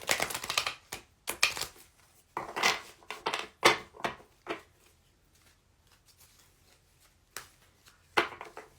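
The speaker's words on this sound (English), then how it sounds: "I'm shuffling again." Oracle cards are shuffled by hand in short bursts of crisp riffling and slapping, close and fairly quiet, separated by brief pauses and ending with a couple of isolated flicks.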